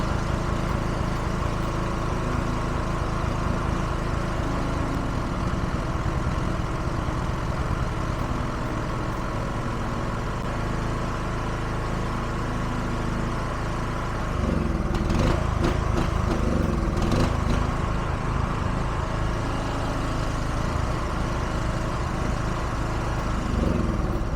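A petrol generator engine runs steadily until its fuel runs out, a loud, continuous droning hum close by with a slight roughening partway through, no voices.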